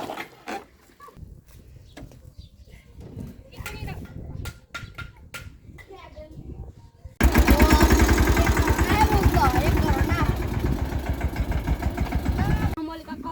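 A second tractor running in a farm field, its engine thrumming loudly in a steady pulsing rumble for several seconds after a stretch of quieter background with voices and animal calls.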